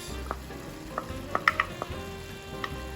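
A shepherd's pie filling of meat in barbecue sauce bubbles gently in a pan, giving a soft steady sizzle with a few scattered sharp pops and clinks, quiet and close.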